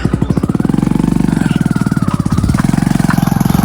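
A motorcycle engine runs close by with a steady, rapid throbbing idle that revs up slightly partway through; no talking.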